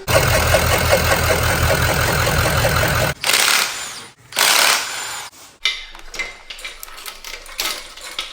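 An LML Duramax diesel engine with a cracked, holed piston runs outdoors with the oil cap pulled to check for blowby. It gives a loud, rhythmic knocking idle for about three seconds, then breaks into rough bursts of hiss and metallic clatter.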